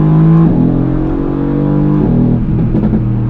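A Mercedes-AMG engine in race mode roars loud and close from inside the car, holding a steady high drone with pitch dropping sharply at quick gear changes, burbling as it pulls on.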